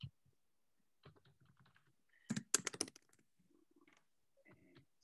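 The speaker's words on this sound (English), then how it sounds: "Just typing my name in here." Fingers tap keys on a computer keyboard in short, quiet bursts, with one louder flurry of clicks in the middle and near-silent gaps between runs of typing.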